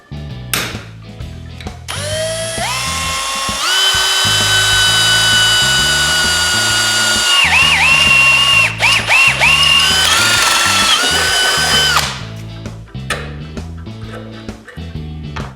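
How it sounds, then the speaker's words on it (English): A power drill boring holes in the body of a Jeep Cherokee to mount a transmission cooler: loud whining motor runs that rise and dip in pitch, with short bursts and stops before and after a long sustained drilling stretch. "I'm going to go ahead right now and drill a couple holes"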